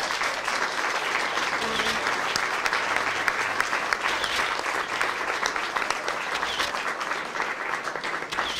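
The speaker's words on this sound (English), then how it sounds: "So if we could give a huge, huge round of applause." Huge round of applause at an art exhibition opening night in Glendale, California, sustained crowd clapping for several seconds, even and dense, with a brief voice near the start.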